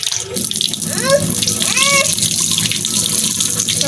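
Tap water runs steadily into a sink, splashing and gurgling as ingredients for homemade Cerelac baby cereal are rinsed clean, with a few rising bubbly tones and clattering near the start; no one speaks.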